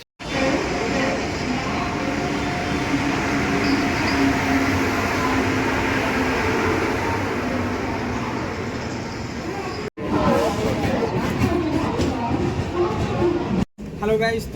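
A train pulls out of Bhubaneswar station with a steady, loud rumble of wheels and carriages that carries on throughout, with two brief breaks. Voices talk over the noise.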